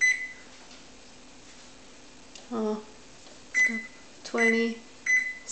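A microwave oven heats about 100 grams of ground meat for dog food. A speaker talks while the machine runs, and several short, clear electronic beeps sound close by from its keypad.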